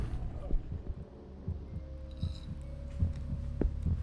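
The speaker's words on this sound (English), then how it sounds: "The heartbeat minigame might be really hard on this guy because he has really low serenity" In a video game's heartbeat minigame, a muffled heartbeat thumps in a low, steady, repeating rhythm under a faint hum, with occasional soft clicks and no speech.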